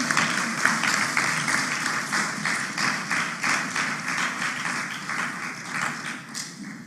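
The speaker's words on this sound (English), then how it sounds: "I think you need to clap St. Lucia." An audience claps for St. Lucia at a CXC exam results release ceremony, sustained rhythmic applause with individual claps audible throughout, fairly close and steady before tapering slightly at the end.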